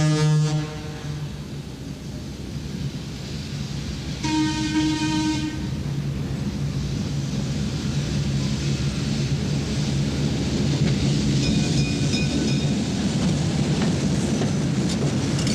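A 1949 General Electric 5,000-horsepower South Shore electric freight locomotive rumbles steadily nearby and sounds two deep horn blasts, one at the start and a longer one a few seconds later.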